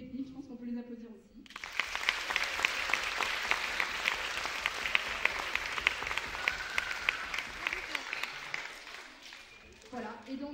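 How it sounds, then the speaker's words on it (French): Audience applause at a school orchestra's end-of-year concert, a dense, steady clapping of a crowd that swells in after a brief spoken line and runs about seven seconds before fading, with talk resuming at the end. "je pense qu'on peut les applaudir aussi"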